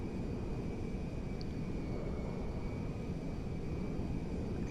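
A plane in GTA Online, with its landing gear down, drones steadily as the engine throttles back on approach to land, a constant low hum with no voices.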